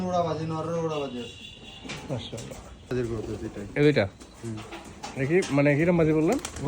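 Giribaz pigeons coo at a pigeon farm with soft, low calls heard under near, continuous conversation between several people.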